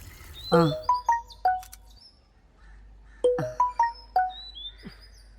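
A phone ringtone plays a chirpy, birdlike melodic pattern twice, the two repeats separated by a brief pause.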